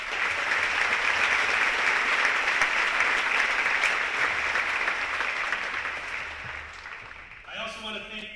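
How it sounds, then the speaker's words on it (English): A round of applause from the crowd at a 2018 high school graduation ceremony, broad steady clapping that gradually fades, then gives way to a voice at the end. "let's give them one more round of applause,"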